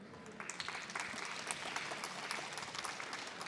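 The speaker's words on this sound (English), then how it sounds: "I would kindly ask you to applaud for them for the great job they did" Delegates at a climate and water conference applaud the steering committee, a moderate round of crowd clapping with scattered sharper claps, heard at a distance and fairly faint, with no talk over it.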